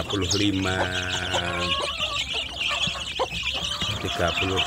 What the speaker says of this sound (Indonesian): ini berisi 35 anak ayam kampung ya